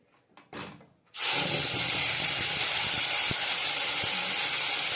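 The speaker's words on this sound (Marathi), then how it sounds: "तेल थोडं गरम झालंय तर त्याच्यामध्ये आपण जी ग्रेव्ही बनवली होती ती टाकायची पण सावकाश टाकायची जरा उडू शकते" Gravy poured into hot oil for egg curry bursts into a loud, steady sizzle that hisses on continuously after a brief quiet start with a few faint knocks.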